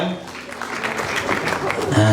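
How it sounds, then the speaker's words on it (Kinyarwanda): An audience claps and cheers at a Rwandan cultural performance, a brief burst of applause mixed with voices. "murakoze cyane amashyi menshi kubatahira"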